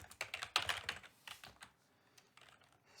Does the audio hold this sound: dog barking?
no